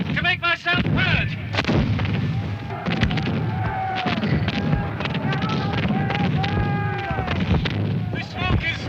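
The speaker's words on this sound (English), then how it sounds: "That's Cumberland's cannon. Cannonades all around me." Cumberland's cannon fire booming repeatedly at the Battle of Culloden, loud heavy blasts and rumbling cannonades all around, with someone shouting over the barrage throughout.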